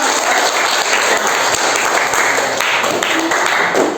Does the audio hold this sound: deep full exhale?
no